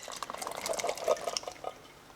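Tinned peas tip wetly into a cooking pot for curry goat with rice and peas, giving a short, close run of soft splashes and liquid patters.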